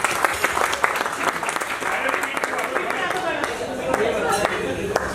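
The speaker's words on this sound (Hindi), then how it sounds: "डीके और सुजाता के लिए ढेर सारी तालियां" Audience applause at a Bhangra, skit and DJ star night, with dense, steady clapping filling the clip and voices mixed in among the crowd.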